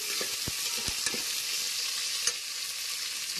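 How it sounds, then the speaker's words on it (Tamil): Small onions, green chillies and curry leaves fry in a pan with a steady, bright hiss of hot oil, broken by a few soft clicks and scrapes of stirring. "நல்லா ஆனியன் நல்லா ஃப்ரை ஆயிடுச்சு."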